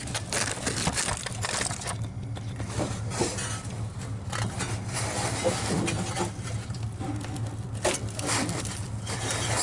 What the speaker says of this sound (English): Belt slipping.